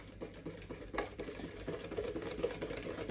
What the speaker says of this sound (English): And whisk it up.